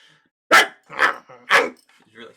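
A dog barks three times in quick succession, loud and close, in an anime episode, followed by a softer fourth yelp.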